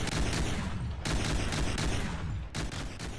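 A rapid-fire multi-barreled APS turret in From the Depths shooting fast shells, a loud continuous hammering stream of shots in long bursts with two brief breaks between them.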